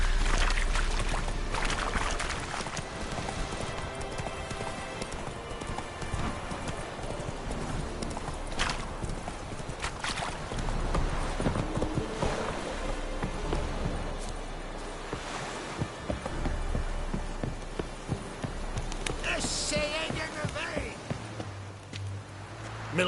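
Roach, Geralt's horse in the video game The Witcher 3: Wild Hunt, gallops with a rapid, continuous hoof rhythm, joined by an occasional whinny, while people talk over it at times.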